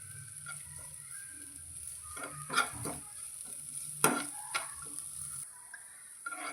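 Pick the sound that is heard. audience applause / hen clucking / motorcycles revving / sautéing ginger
sautéing ginger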